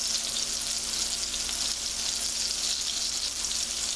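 Shallots, mushrooms and garlic fry in a pan with a steady, dense sizzle that holds evenly throughout, close and fairly loud with no talking.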